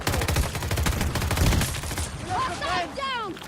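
Rapid bursts of gunfire from the Cobra gun in the video game Battlefield 2042, loud and dense for about two seconds, then giving way to whooshing game effects and rising whistling tones.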